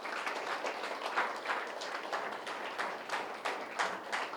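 An audience claps at the opening of a pyramid meditation hall in Bommuru, a moderate crowd applauding in rhythmic bursts that rise and fall, fairly close and without voices.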